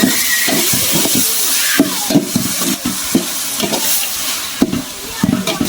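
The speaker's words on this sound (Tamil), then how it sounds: "தக்காளி நல்லா வதங்கட்டும்." Tomatoes sautéing in hot oil for chicken biryani, a loud, dense frying hiss with repeated scraping stir strokes against the pan, close up and without talk.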